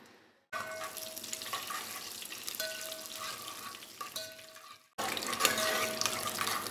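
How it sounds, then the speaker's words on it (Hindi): Oil with cardamom powder, pistachios and almonds frying over a low flame, giving a steady close sizzle with faint tonal whines, cut by brief silence before the sizzle returns slightly louder. "हल्की आग पे फ्राई करेंगे, ज़्यादा तेज़ ना हो आग"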